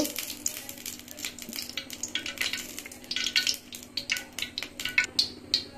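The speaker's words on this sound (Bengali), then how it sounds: "এখন আমি কড়াইতে তেল দিব।" Oil in a kadai sizzles and crackles as food is stirred, with irregular scraping strokes of a utensil against the pan building in density, close and fairly clear.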